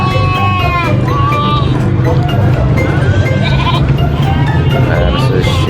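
Sheep and goats in Manor Lords bleat repeatedly and overlap, some calls high and wavering, over a busy market bustle and faint cowbell-like clinks, with a voice talking beneath.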